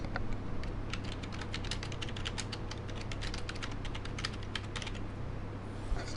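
Rapid typing on a computer keyboard, steady clusters of crisp key clicks running without pause, close and distinct over a faint room hum, with nobody speaking.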